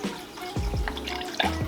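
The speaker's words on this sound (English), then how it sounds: "We need to add in the water conditioner to remove the chlorine from this" Water conditioner trickles and splashes in short pours into a fish tank, a quiet close liquid dribble with a few drips.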